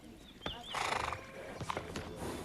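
A horse gives a brief whinny, with a rising then falling cry and some scuffling clatter around it, heard fairly close amid background noise.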